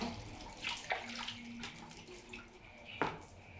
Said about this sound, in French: Il les plonge dans un seau d'eau.